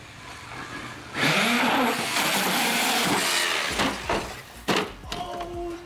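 A 100 mph RC car races toward a backyard pool jump, its electric drivetrain letting out a loud, sustained whining roar that kicks in abruptly, followed by a few sharp thuds and bumps near the end.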